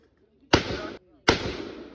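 An M16 rifle fires two loud close shots about three-quarters of a second apart, each a sharp crack followed by a ringing tail, at a training range.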